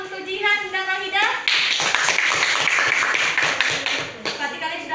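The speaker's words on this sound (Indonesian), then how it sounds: "Baiklah, tepuk tangan untuk Jihan dan Wahida." Students in a classroom clap for classmates, a lively burst of many hands clapping close by that swells and then tapers, with a teacher's voice speaking over it at the start.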